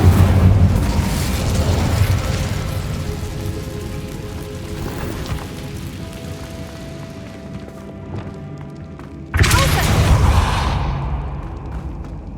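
A fire spell cast in the Hogwarts Legacy video game: a loud, rumbling burst that fades across several seconds, followed by a second sharp, bright blast near the end, with no talking.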